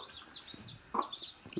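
A hen clucks close by among her newly hatched chicks, with faint high peeping chirps scattered through short soft clucks on a quiet farm.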